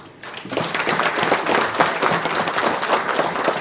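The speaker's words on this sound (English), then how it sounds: "why don't we, in advance, give a thunderous applause to all of them collectively." Thunderous audience applause at a sanitation award ceremony, dense steady clapping from a large crowd that swells in after a brief quiet start and holds loud throughout.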